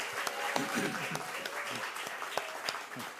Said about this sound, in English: How about a big old round of applause for Don?